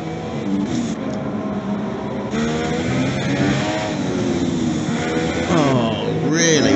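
Formula 1 video game race with a Ferrari and a Haas battling for third place, steady engine drone and rising revs running throughout, with commentary talking over the cars.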